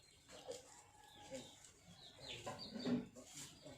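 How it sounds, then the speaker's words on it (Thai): Chicken clucking on a Thai smallholding where ducks and chickens are kept, a few soft scattered clucks and calls, faint and somewhat distant, with one louder cluck near the end. "ไก่"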